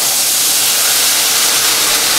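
Filtered jaggery poured into hot roasted grated coconut gives a steady, bright hiss and sizzle that fills the short stretch without letup and without talk.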